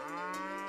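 A person imitating a cow's moo with their voice, one sustained, close and loud lowing tone held for under a second with steady rich harmonics and no other sound.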